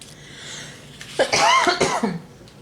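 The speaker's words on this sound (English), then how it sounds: "excuse my coughing" A short burst of coughing, a few rough hacks close to the mic, followed by quiet.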